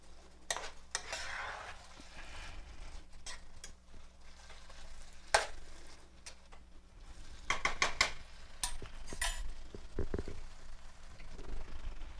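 Meat and vegetables cooking in a pan for a quiche. There is a steady low sizzle, broken by sharp scrapes and clinks as a utensil stirs against the pan. The scrapes come in irregular bursts, and the whole sound is fairly quiet and close.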